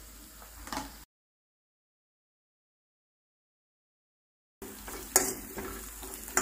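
Food sautés in a pan while a Kumaoni bhat ke dubke dish is being cooked, a soft sizzle and stirring heard in two short stretches separated by a long silent gap.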